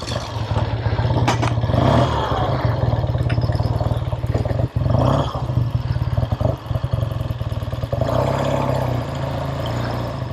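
A 1968 Triumph Daytona 500 motorcycle engine runs close by, its twin-cylinder putter clattering and revving unevenly as it gets under way, with no talking.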